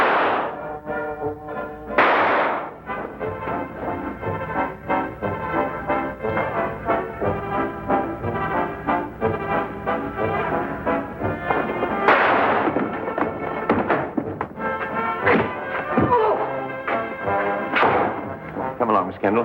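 Sharp gunshot sound effects from a 1955 Sherlock Holmes radio drama: about four loud, separate bangs spaced several seconds apart, cracking over a steady bed of dramatic orchestral music.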